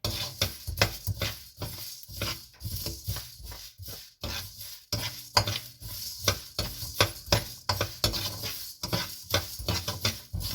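Close, busy sizzling and scraping of spices frying in a pan, with rhythmic stirring strokes over a constant crackle of frying.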